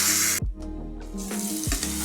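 Red chilli powder, turmeric and onion paste fry in hot oil, giving a sizzling hiss in short bursts with a low background hum.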